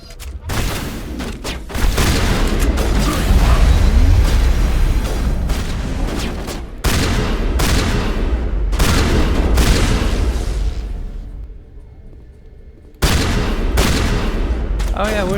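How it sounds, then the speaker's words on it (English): Shotgun blasts at close range against an enemy in Mass Effect 1 Legendary Edition, loud heavy booms in clustered volleys with rumbling tails and brief lulls between bursts. "Getting that close to Coppertail with my shotgun."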